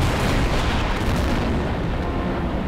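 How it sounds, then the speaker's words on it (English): A massive explosion erupts in a maze in the video game Cursed Luca, a dense, sustained roar of blast and rumble filling the whole moment with no voices. "That was the biggest explosion I've ever seen"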